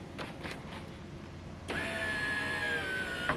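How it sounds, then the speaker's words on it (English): Power window on a 1994-1998 Ford Mustang after a window regulator replacement: a few faint clicks, then a motor whirs steadily as the glass moves, close and fairly loud, with a small knock as it stops. "if we take a look at this window one more time, let's bring it down"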